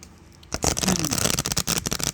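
Slippery, ungilded tarot cardstock being shuffled by hand, a quick run of soft riffling flicks and slaps after a short near-silent start, close and fairly loud, with no talking.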